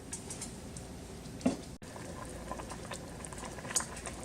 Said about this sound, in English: So you can see that it's starting to boil.